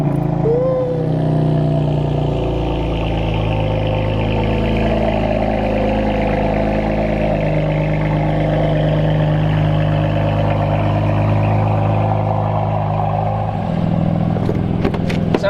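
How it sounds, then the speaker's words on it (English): A BMW M4 engine fires up and settles into a loud, close, steady rumble that holds for several seconds before a few sharp knocks and clicks near the end. "Laurent, give it a start. Let's let the people hear what this machine's all about."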